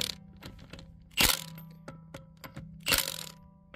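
A wrench snaps and clicks as lug nuts are tightened on the wheel of a 2016 Toyota Camry during a brake pad job, with sharp ratcheting ticks and two louder cracking bumps close by.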